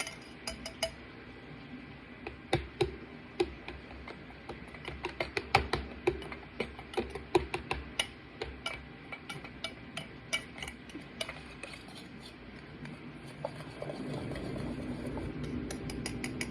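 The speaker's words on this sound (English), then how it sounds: "I'm going to take my whisk first and kind of mash up the egg yolks" A whisk mashes hard-boiled egg yolks in a bowl for deviled eggs, producing a string of light metallic clicks and taps at an uneven, quickening rhythm, up close and quiet with no talking.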